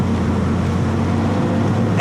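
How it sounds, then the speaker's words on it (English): An old Porsche 911 engine idles with a steady, mechanical ticking rumble, close and loud, holding an even drone without revving throughout. "And that engine, it's just ticking away."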